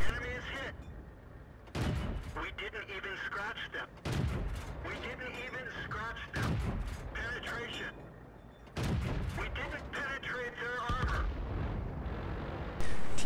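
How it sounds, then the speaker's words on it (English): Tank cannon shots in a World of Tanks-style tank battle game, with a Pz 38 nA firing at a KV-2 on Sand River; repeated loud booming blasts recur at intervals with a person talking over them throughout. "I'm going to shoot at the KV-2 while I can without him seeing me"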